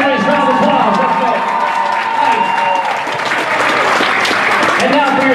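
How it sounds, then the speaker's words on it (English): A crowd in a gym claps and cheers loudly and without a break. Shouts and voices mix into the dense applause from start to finish. "Come on, get up and give a nice round of applause."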